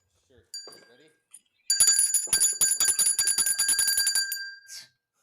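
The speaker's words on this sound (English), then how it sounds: "You want to ring the bell before the song" A small metal bell rings close and bright in a fast, steady string of strikes lasting a few seconds, and a brief tap and faint voice come just before.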